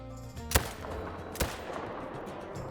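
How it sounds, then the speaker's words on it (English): Two sharp rifle shots at a deer in the hunting game Call of the Wild, the first around half a second in and the second nearly a second later, each loud and abrupt over quiet game ambience. "I think we saved it on the second shot right there."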